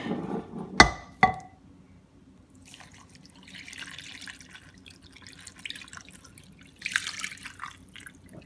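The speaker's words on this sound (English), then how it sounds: "Finally, we add some liquid." Liquid poured into a slow cooker over pork shoulder: a couple of sharp splashes near the start, then a faint, steady wet trickle with a few soft drips.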